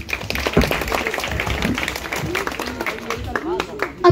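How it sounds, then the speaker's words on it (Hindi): Applause from a school audience at a Teacher's Day celebration, scattered clapping rising and falling under a voice talking and crowd chatter, fairly close and moderately loud. "इनके लिए जोरदार तालियां हो जाए।"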